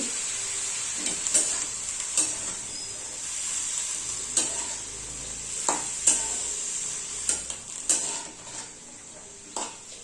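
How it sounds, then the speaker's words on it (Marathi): Flat beans being stirred with salt in a hot pan with green chilli and garlic, a continuous sizzle punctuated by repeated scrapes and taps of a spatula on the pan, close and without talking. "फळशीच्या शेंगा आता सगळी मीठ टाकूया चांगलं मिक्स करून घेऊ"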